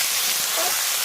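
Turnips hissing and sizzling steadily in hot oil with five-spice seeds, a continuous close, bright frying hiss with no talk.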